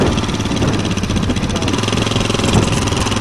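A quad ATV engine given gas outdoors on a farm, roaring loud and close in a dense, steady drone that holds at full throttle for the whole stretch.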